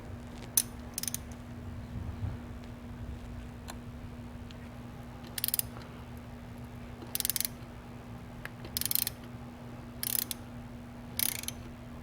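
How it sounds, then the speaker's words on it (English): A ratchet turns in short clicking bursts, about eight of them spaced a second or two apart, as a spark plug comes out of a Ford Escape engine. The clicks are close and crisp over a quiet low hum. "let's put this to the side and remove the spark plug"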